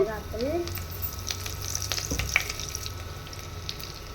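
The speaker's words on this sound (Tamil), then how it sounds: "கருவேப்பிலை நல்லா ஒரு மாதிரி ரோஸ்ட் ஆகட்டும்" Curry leaves roast in hot oil after fenugreek seeds, crackling and sizzling steadily at close range. A low hum runs underneath and a few clinks come through.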